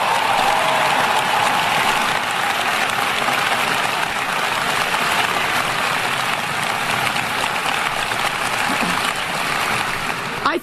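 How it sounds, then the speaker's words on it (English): Dense, sustained applause from the audience at Lori Lightfoot's mayoral inauguration in Chicago, greeting the City Council aldermen, roars on evenly and loudly throughout with no pauses. "Let's give them a round of applause."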